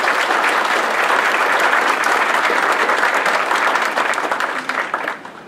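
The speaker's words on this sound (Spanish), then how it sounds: "Démosle un fuerte aplauso" A large audience breaks into loud, sustained applause to welcome a speaker at the presentation of an educational technology innovation lab. The clapping is dense and even, then thins out toward the end.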